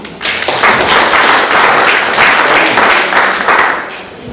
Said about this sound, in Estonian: Nii, aplaus Marjule!